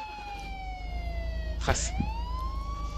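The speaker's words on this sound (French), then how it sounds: "tu vois, là, on entend bien la sirène" Police car siren in the video game Contraband Police, a steady wailing tone sliding down, then dipping and rising again, with a brief noisy burst in the middle and faint talk underneath.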